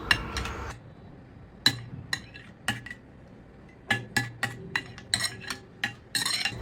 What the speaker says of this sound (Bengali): তো 2 চামচ নিয়ে প্রথমে কি করব, এই দইটার সাথে খুব ভালো করে মিশিয়ে নেব।